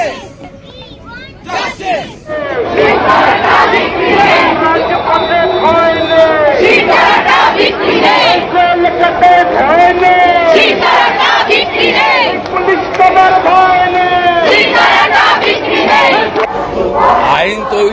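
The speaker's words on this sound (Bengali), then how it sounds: "গলায় একটাই স্লোগান উই ওয়ান জাস্টিস" A large protest crowd at a candlelight demonstration in Bengal chants the slogan "We want justice" in loud, rhythmic unison, repeated again and again with voices rising and falling together.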